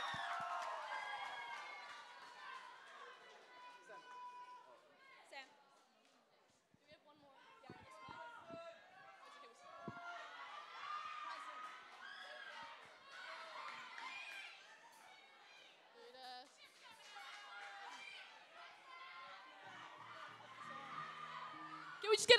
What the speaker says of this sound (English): Make some noise for Minerva!